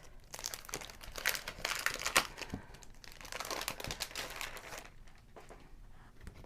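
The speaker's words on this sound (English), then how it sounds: "So I'm going to go ahead and open up my stencil and cut it apart." Close, crisp crinkling and tearing of a plastic stencil being unwrapped and cut apart, coming in irregular bursts with a few sharp snips, then fading to quieter rustling at the end.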